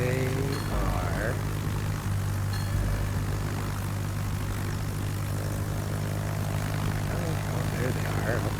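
A fighter aircraft airborne in a video game drones with a steady, continuous propeller-like engine hum that stays even throughout, with a voice talking faintly beneath it.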